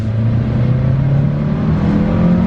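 A 2020 Hyundai Sonata accelerates, its engine giving a steady, loud, close mid-pitched drone with a slowly rising hum and no talking.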